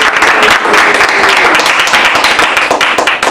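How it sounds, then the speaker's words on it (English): A Toastmasters club meeting claps for a nominee for club president, with loud, close clapping from a small group forming a dense, even patter for a few seconds. "You can clap now."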